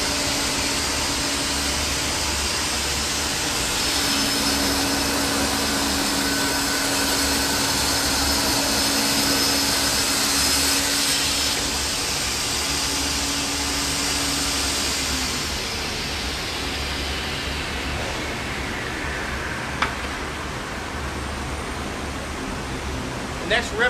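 A Holz Her vertical panel saw rips through a panel, a loud steady roar of blade and dust extraction with a sustained whine that fades as the cut finishes and the noise drops, ending with a couple of sharp knocks.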